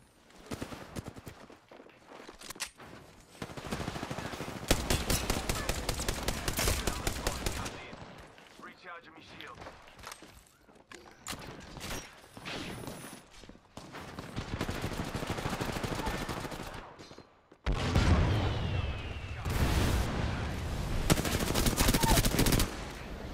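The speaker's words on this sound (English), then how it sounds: "We're getting shot at." Video game shootout with bursts of rapid automatic gunfire, some long continuous volleys and some short clusters, loud and close, separated by brief gaps where players talk.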